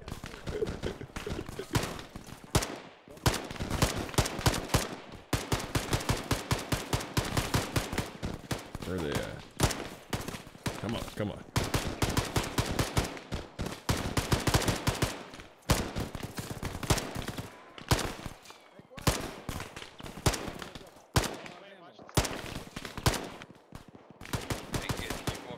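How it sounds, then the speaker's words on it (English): Sustained automatic gunfire from Arma 3 combat, dense bursts of rifle and machine-gun fire rattling almost continuously, with brief lulls and occasional short breaks between volleys, loud and close. "Craig, fire your weapon!"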